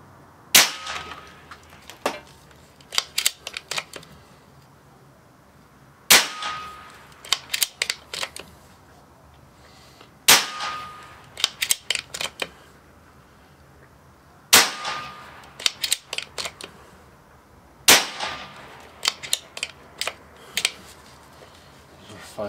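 Daystate Wolverine 303 .30 calibre air rifle, run unregulated with 50.15 grain pellets, fires five sharp, loud shots spaced a few seconds apart. Each crack is followed by quick clicks and clanks of cycling the action. Brief low voices sit in between.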